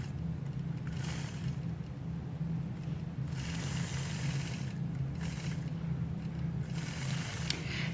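A sewing machine runs in several short stitching bursts while straight lines are machine quilted, under a steady low motor hum with brief pauses between runs.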